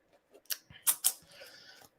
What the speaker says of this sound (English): shuffle my tarot deck